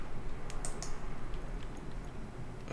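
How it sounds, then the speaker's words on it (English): Keys pressed on a computer keyboard during a game session, a few quick faint clicks near the start over a steady background hiss. "So I press 5 on the keyboard again,"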